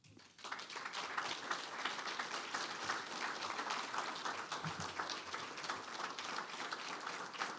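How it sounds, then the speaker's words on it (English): Sustained applause from a faculty presentation audience for speaker Doug Bauer, steady dense clapping that fills the room at an even level from start to finish, with no talk over it. "Another round of applause for Doug Bauer."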